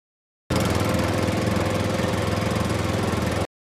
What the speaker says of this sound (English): Tractor, tractor driving down the street,